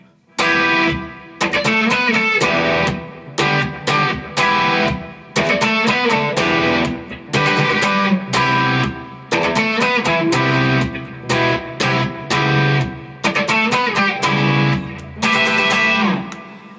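Distorted electric guitar strums chords in a choppy, rhythmic pattern with short gaps between bursts, played alone and fairly loud.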